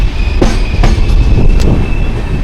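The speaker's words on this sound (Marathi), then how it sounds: "आपली ट्रेन आले संगमेश्वर रोड रेल्वे स्टेशन." Jamnagar Tirunelveli Express rolling into Sangameshwar Road station, heard from inside a general coach: loud, steady rumble of wheels on rails with a few sharp clacks over joints and a faint thin squeal.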